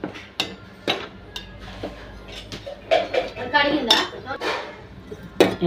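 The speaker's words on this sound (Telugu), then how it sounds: "ఉప్పు వేసుకొని కలుపుకుంటున్నామండి" A spoon stirs tomato egg curry in a pot just after salt is added, giving scattered metallic clinks and scrapes with a few louder knocks against the vessel, while a voice talks over it.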